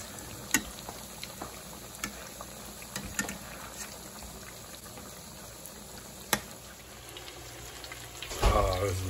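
Croquettes fry in hot oil with a soft, continuous bubbling sizzle, punctuated by a few sharp clicks and a louder splashing burst near the end, while people talk quietly nearby.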